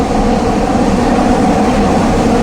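A Mumbai metro train between Dadar and Chhatrapati Shivaji Maharaj Terminus rumbles along steadily at close range, with a dense, continuous roar of wheels and motor and no talking.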